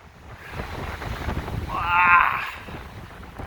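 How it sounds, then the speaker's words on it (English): Strong, gusty wind rushes through a tree-sheltered campsite in Montana, a low rumbling buffet against the microphone that swells toward the middle and then eases. "the wind has been pretty strong all night"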